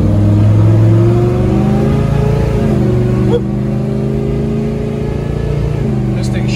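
On a test ride, a 1972 Chevelle with a 454 big block engine drones loud and near as it revs up, shifts and settles into a steady cruise for several seconds, without speech.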